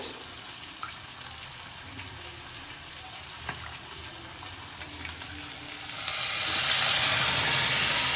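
Water from rinsing a bowl is poured into a hot frying pan of marinated potatoes and chicken curry, making a continuous close sizzle that swells louder over the last couple of seconds.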